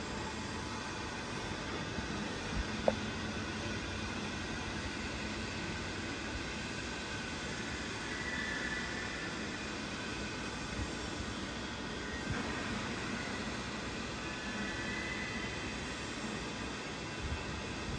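Kao Ming KMR-980 S radial arm drill with 40 mm capacity running its spindle feed, a steady mechanical hum and whir that holds evenly throughout with a faint click early on and no talk.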